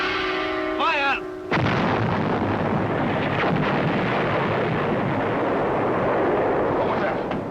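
A sustained heavy rumbling roar of artillery fire as a sound effect in a 1953 radio crime drama, loud and continuous after a brief tonal cue and a short gap, with a voice at the start.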